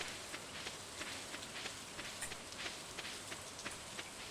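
Soft, steady patter of rain in Stardew Valley falling on a surface, a faint continuous hiss with light scattered drops.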